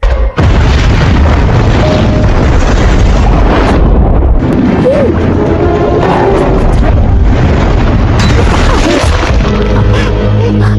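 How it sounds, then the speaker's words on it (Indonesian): A house blowing up in the film Final Destination Bloodlines after a shorted power line sets it off, a loud sustained roar of blast, debris and rumble filling the whole scene with a brief drop partway through. "tiba-tiba rumah itu meledak"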